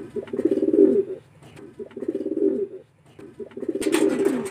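Racing pigeons coo in a loft, three repeated throaty rolling coos close up, each about a second long with short gaps, and a brief flutter near the end.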